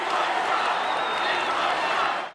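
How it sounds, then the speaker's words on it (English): Political convention crowd booing Ted Cruz: a dense, sustained roar of many voices filling the hall, steady and loud throughout. "Cruz was booed when he did not endorse Trump despite demands from the crowd."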